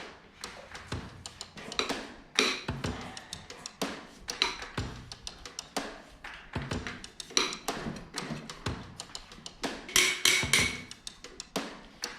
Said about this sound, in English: Just a dead blow hammer.